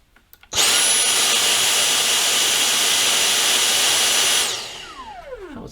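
A Dyson cordless stick vacuum cleaner starts abruptly and runs at maximum suction with a loud, steady, high-pitched whine and airy roar, then powers down into a descending spin-down whir at the end.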